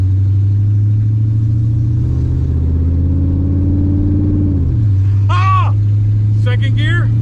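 A 1969 Plymouth with a swapped engine runs loud and steady, its revs climbing through a gear before dropping as the next gear engages, while a person speaks briefly over the engine noise near the end.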